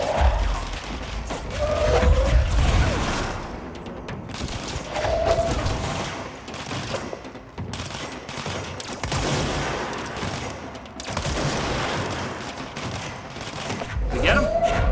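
Gunfire in the video game Control: repeated bursts of shots aimed at a character, rising and falling across the stretch, mixed with a voice.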